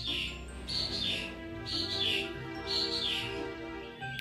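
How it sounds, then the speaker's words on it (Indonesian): Birds chirp outdoors in repeated bright, quick bursts of calls at a steady rhythm, fairly close, over a low hum with no talk. "Itu burung setiap saya record bacot mulu, guys."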